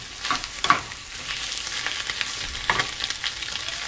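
Scrambled eggs fry in a pan on the stove with a steady crackling sizzle, broken by bursts of scraping as they are flipped and chopped up.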